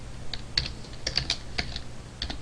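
Fast, irregular clicks of a computer keyboard as Java code is typed, close and crisp, with small bursts of keystrokes and brief pauses and no talking.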